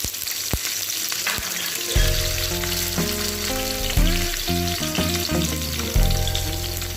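Curry leaves crackle and sizzle in hot oil with fried garlic and ginger, a steady loud frying hiss overlaid by a low humming drone that swells in stages, with no talking.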